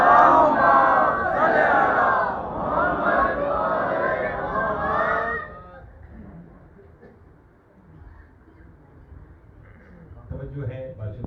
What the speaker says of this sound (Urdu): صلوات اتنی بلند بھیجی جتنی آل محمد نے طاقت عطا فرمائی ہے